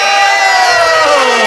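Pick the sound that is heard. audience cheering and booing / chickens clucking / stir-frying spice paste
audience cheering and booing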